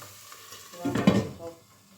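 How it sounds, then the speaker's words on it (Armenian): Food sizzles and hisses in a hot pan, swelling briefly as it is stirred, then settling back to a low crackle. "Լավ է, գոլորշի մեջ տապակում է"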